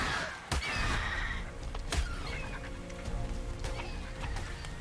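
A horse (Equus) in the video game Ark whinnies twice, sharp high neighs over a low ambient game backdrop, with faint clip-clop and bird-like chirps in the background.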